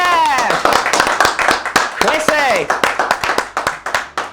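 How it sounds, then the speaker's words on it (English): A round of applause breaks out on a podcast, dense claps and whoops rippling under an excited voice calling out a name, fading into scattered claps toward the end. "Give him a round of applause"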